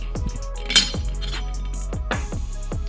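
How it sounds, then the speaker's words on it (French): Metal and glass parts of an Aladin Epox hookah clink and knock as the bowl connector is pulled off, a few close, sharp clinks and taps with short pauses between them. "On va tout simplement venir enlever le connecteur foyer"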